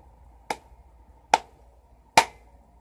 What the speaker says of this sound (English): Clap with me.